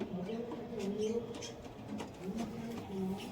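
Pigeons of Madras, desi Giribaz and racer breeds coo in low, wavering phrases that repeat several times, close by, with a person talking over them.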